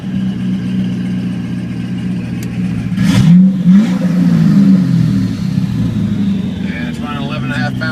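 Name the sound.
twin turbo LS3 GTO engine revving with exhaust open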